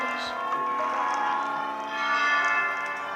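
A church bell inside a Roblox church rings as a continuous, faint metallic drone under a steady background wash.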